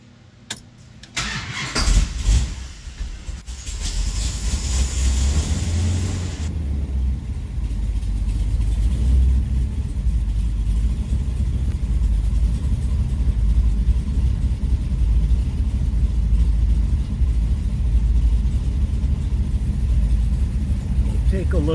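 A Mopar 505 cubic inch stroker big block V8 with a hydraulic roller cam cranks and fires up, then settles into a loud, steady, rumbling run that continues to the end.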